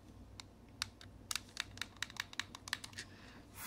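Game Boy Advance shoulder buttons with high actuation force tact switches click repeatedly, a quick series of sharp, close, small plastic clicks in an irregular rhythm over a faint background hum.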